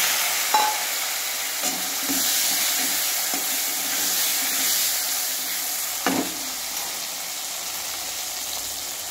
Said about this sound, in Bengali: এখন আমি বেগুনটাকে ভেজে নেব।